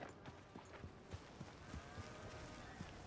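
Horse hooves clip-clop in a steady, even walking rhythm in the video game Red Dead Redemption 2, soft and fairly quiet with a faint outdoor background.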